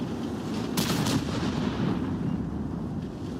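Tank cannon fire in a video game battle, a loud close blast rolling into a rumbling decay over continuous low engine and battle noise, with no talking.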